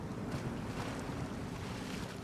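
A Monster Dyipni mod truck in SnowRunner ploughs through a river in a steady, rushing wash of churning water and engine noise, continuous and fairly loud, with no talk.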